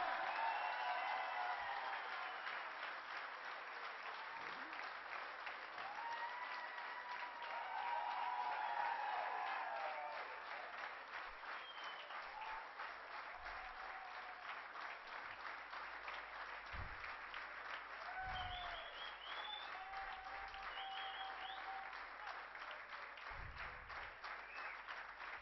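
An audience at a stage awards performance event applauds steadily, a dense, distant-sounding wash of many hands clapping that continues throughout and slowly eases, with no voices over it.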